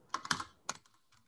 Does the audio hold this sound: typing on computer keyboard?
yes